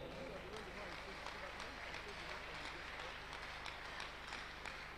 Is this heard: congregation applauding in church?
yes